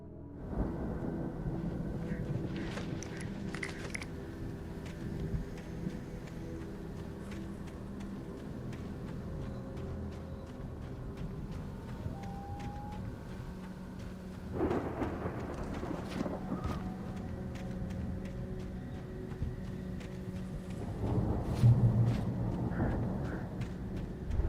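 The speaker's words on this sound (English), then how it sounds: "The storm raged on" A raging storm in a horror video game: a steady low rumble of wind and rain runs throughout, with a louder thunderous swell near the middle and another heavy rumble toward the end, no talk.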